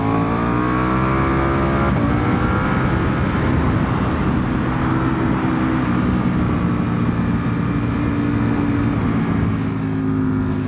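A 2025 BMW S1000RR motorcycle engine drones loudly and steadily from onboard, its pitch easing and shifting as the throttle is released, with wind rush underneath.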